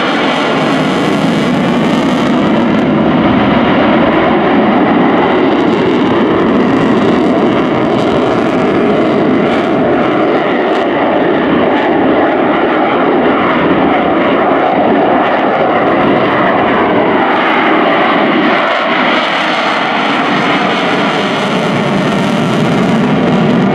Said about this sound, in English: But the engine's working incredibly hard to suck hundreds of litres of air into it